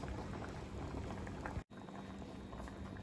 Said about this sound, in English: This is bubbling.